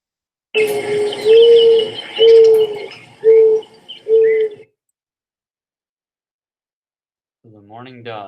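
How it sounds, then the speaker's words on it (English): A recorded mourning dove gives its soft, drawn-out cooing in a series of about five mellow notes, then falls silent before a voice begins speaking at the end. "Next one, we have the mourning dove."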